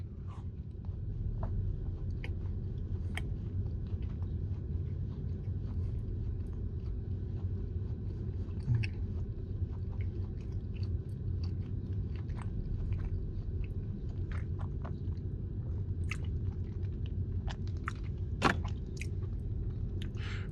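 Someone chews a Crumbl brownie up close during a mukbang, with steady wet chewing and scattered crisp clicks and smacks for about twenty seconds and no talking.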